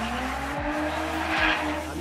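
A car drifting on a race track, its engine roaring steadily while tires squeal and skid in two sharp sweeping bursts, loud and fairly close with no talking.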